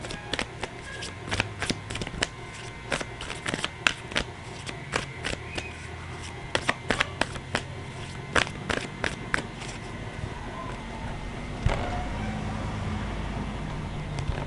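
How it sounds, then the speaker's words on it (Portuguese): Tarot cards are shuffled by hand in a quiet room, giving a rapid series of soft papery riffles and snaps, irregular and close, with a brief louder rustle near the end. "Deixa eu embaralhar assim, é melhor."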